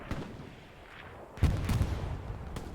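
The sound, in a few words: artillery fire in the video game Hell Let Loose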